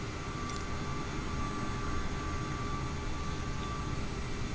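CRJ700 jet flying over Miami in Microsoft Flight Simulator 2020, a steady broadband engine roar with a faint high whine, constant and unbroken, with no voices.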